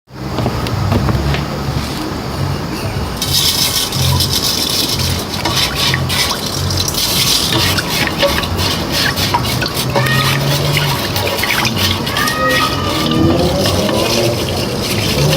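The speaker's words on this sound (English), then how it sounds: "add the lye to the water, and let it dissolve," Lye is added to water and stirred outdoors for homemade soap, a steady close liquid gushing and swirling that continues throughout, with outdoor ambience underneath.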